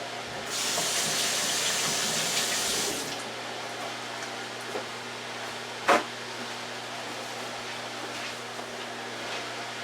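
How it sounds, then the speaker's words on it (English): Tap water runs for hand washing, a steady hiss lasting about two and a half seconds before cutting off, followed by quiet room noise and a single sharp knock. "Let me wash my hands."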